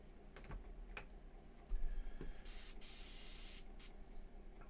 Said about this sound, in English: let's give the bottom a spray